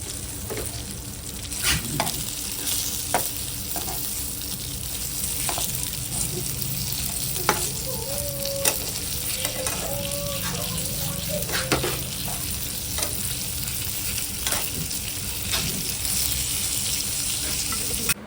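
Fish sizzling in a pan on a home stove, a continuous close fry with scraping and stirring knocks, a faint background tone running through and occasional clinks.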